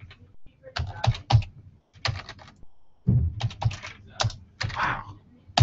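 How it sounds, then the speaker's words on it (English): Keys clatter on a computer keyboard in several quick bursts of typing separated by short pauses, close and fairly loud, with no talking. "So I'm just going to type"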